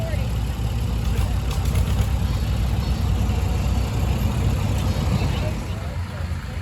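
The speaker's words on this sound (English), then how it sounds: "A 1950 Oliver gas tractor out of the Steve Gay collection from Titanic" A 1950 Oliver gas tractor engine runs steadily close by at a tractor show, its low, even rumble continuous and fairly loud throughout with no break.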